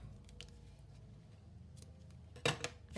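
Scissors trim ribbon on a handmade stamped greeting card, giving a couple of crisp, close snips near the end after a quiet stretch of faint handling noise, with no talking.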